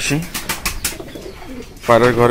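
Pigeons coo inside a pigeon house in the morning, a short low burst of cooing near the end after quieter rustling and faint calls.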